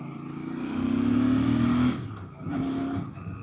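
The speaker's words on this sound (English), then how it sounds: "Even with that stock pipe, it's popping and burbling a little bit." Brand-new 2025 Royal Enfield Bear 650 motorcycle with stock exhaust, a steady close engine drone that swells then dips, followed by a softer second surge with light burbling.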